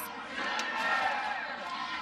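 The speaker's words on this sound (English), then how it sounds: "Heard a little roar from the crowd" A crowd at a college softball game between Oklahoma and Baylor lets out a brief, moderate roar of cheering, a steady wash of voices lasting about two seconds.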